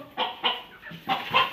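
A farm chicken being caught lets out four sharp, loud clucks in quick succession, close to the microphone and with no talk over it.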